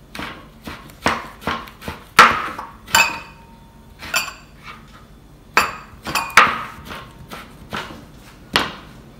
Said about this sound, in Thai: หลังจากที่ปูนาหั่นเสร็จนะคะเราก็มาสับๆๆๆให้ละเอียดอย่างนี้นะ